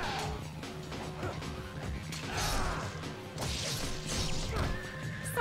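Horse being struck in the video game Ninja Gaiden Black, with crashing hits and whinnies amid dense game combat noise, fairly faint overall.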